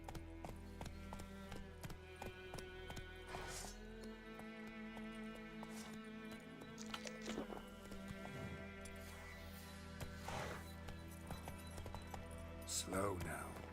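Roach, the horse in The Witcher 3, galloping with steady clip-clop hoofbeats amid busy game music and ambience, with a whinny near the end and someone talking over it.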